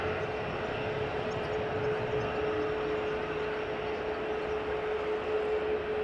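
A year-old Delta Air Lines Airbus A330neo departing on the center runway at Amsterdam Schiphol Airport, a steady, broad jet roar heard from a distance with a constant tonal whine running through it.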